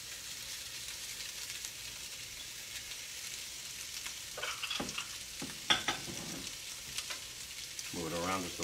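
Jumbo shrimp sauté in a hot pan with a continuous, moderate sizzle. Toward the end, scraping stir sounds and a brief murmur of voice come through.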